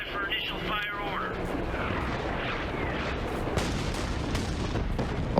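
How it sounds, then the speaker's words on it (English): An in-game explosion strikes a train in the Captain America: Super Soldier video game, a dense roaring blast with rumbling bursts and crackles that continue loudly throughout. "this explosion's totally hit the train"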